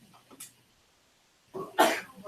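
A single sharp sneeze in a math lesson, a brief breathy burst after a few soft sounds and a pause, close and moderately loud.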